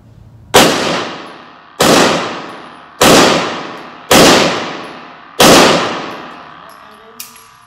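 An M9 pistol fires five loud, sharp shots at roughly even intervals of a bit over a second, each report ringing out and decaying, followed by a faint metallic clink.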